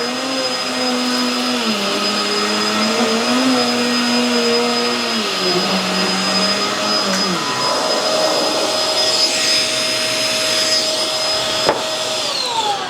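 A Hoover Tangle Guard vacuum cleaner runs steadily on a rug, a loud continuous motor whine whose pitch shifts and drops partway through as it works over the pile.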